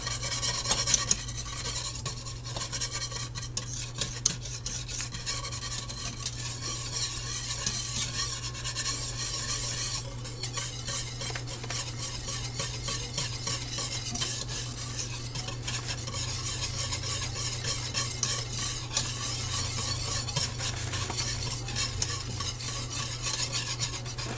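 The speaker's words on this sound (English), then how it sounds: "It's rolling enough for me. Add our soup." Powdered cheddar potato soup mix stirred into a pot at a rolling boil, giving a steady scraping, rasping stir with a constant bubbling hum underneath, close and continuous with no talk.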